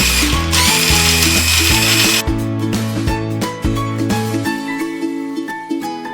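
A Mini-Prep Plus mini food processor runs very loudly up close, its motor whirring with a harsh, gear-like grinding hum that shifts in pitch partway through, with no talking.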